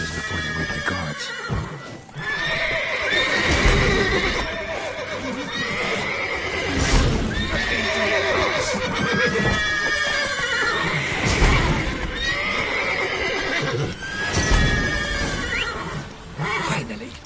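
Horses in The Witcher 3 neigh and whinny repeatedly in loud, drawn-out calls with clip-clopping hooves between them, the whinnies recurring every few seconds over a steady busy background.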